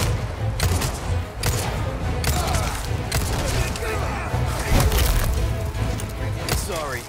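Rapid gunfire crackles from a machine gunner during the Krauser boss fight in Resident Evil 4 Remake, dense bursts of shots and splintering impacts running throughout at moderate loudness.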